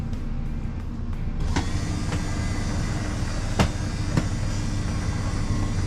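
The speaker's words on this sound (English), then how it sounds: "I'm going to carefully bring the slide in and listen for any binding or popping or anything" An electric AccuSlide slide-out motor on an RV whines steadily as it retracts the slide after its cable came off, with a few sharp clicks breaking through the continuous motor drone.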